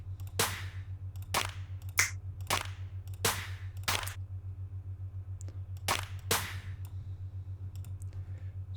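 A clap sample layered into a melodic dubstep track: sharp, bright hits land in an uneven pattern over a steady low bass drone, about eight crisp strikes that cut off quickly.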